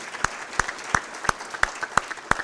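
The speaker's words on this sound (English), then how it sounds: "let's give a round of applause for our Service Award winners" Sparse, evenly spaced hand claps at an awards ceremony, about seven sharp close claps over a soft background of a small room.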